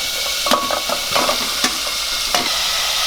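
Mutton pieces fry in hot oil with turmeric and ginger-garlic paste, a steady close sizzle broken by several sharp scraping stirs of a spoon against the pan, with no voices.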